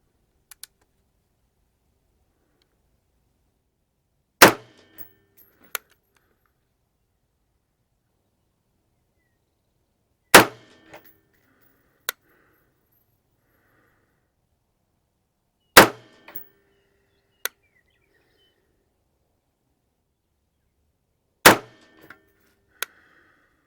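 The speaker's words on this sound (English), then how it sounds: "we're going to be shooting the Men ammo. This is German M193, but this is a 56 grain bullet." Rifle shots fired with German M193 56-grain ammunition at a range ring out as four sharp, loud cracks spaced several seconds apart, each followed by faint clicks or distant impacts against near silence.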